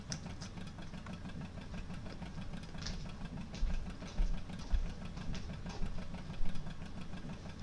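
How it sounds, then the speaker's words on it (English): Old John Deere tractor engine in Farming Simulator, running at a steady idle with a faint rhythmic piston knock, lower pulses recurring throughout and a few louder thumps toward the end, no voices. "just about hear the piston going."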